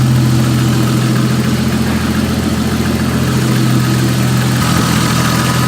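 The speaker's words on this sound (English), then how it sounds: "And see how the engine's just staying steady?" Toyota Supra engine idling steadily, a loud close low rumble with a stable throb and no revving, holding level through the whole stretch.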